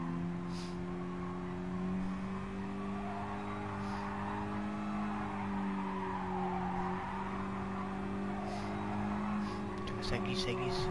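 Mazda MX5 in a racing video game sliding through a long skid, a steady engine drone with sustained tire squeal, while someone talks in French over it.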